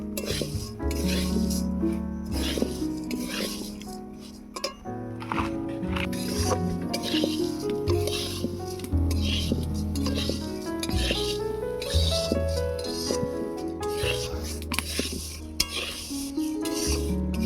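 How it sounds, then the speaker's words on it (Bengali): Vermicelli made from semolina frying in a pan, a steady close sizzle with frequent stirring scrapes and clinks of the utensil against the metal throughout. "সেমাইগুলোকে লাল লাল করে ভেজে নেবো"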